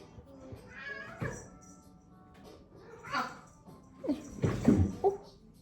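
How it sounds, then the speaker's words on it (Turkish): A cat meows several times, intermittent and fairly close, growing louder toward the end, with quiet background noise between calls. "Kedim ortalığı birbirine katıyordu kusura bakmayın."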